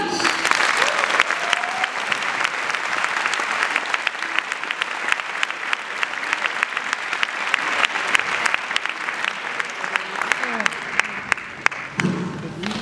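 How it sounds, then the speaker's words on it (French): An audience at an Ashoka Talks event in 2019 breaks into sustained, loud applause, a dense steady clatter of many hands clapping that continues for the whole stretch before easing slightly at the end. "Je vous demande, s'il vous plaît, d'applaudir bien fort François Taméry."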